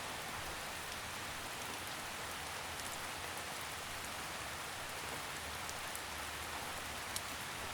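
Steady rain falls in a forest, a soft, even patter of drops on leaves and ground, faint and continuous with no voices.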